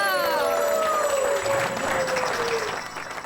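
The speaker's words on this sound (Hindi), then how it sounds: "तालियां" An audience at a neighbourhood dance competition applauds the judges, a steady wash of many hands clapping at once under a tone from a sliding music sting, fading slightly toward the end.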